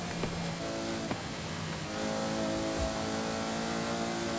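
A steady Ferrari V12 engine drone fills the cabin in Forza Horizon 5, dense and even with harmonic hum, a muffled interior sound with no talking.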